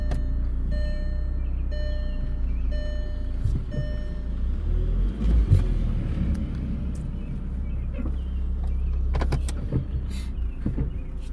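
A 2002 Volkswagen Jetta idles after a cold start following six months of sitting, a steady low engine rumble holding throughout with faint higher whine tones and a few brief clunks and rattles.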